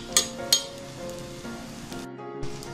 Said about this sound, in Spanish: Vamos a mezclar.